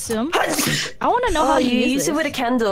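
A single sneeze comes through near the start of the clip, loud and close, with lively conversation among several voices continuing around and after it.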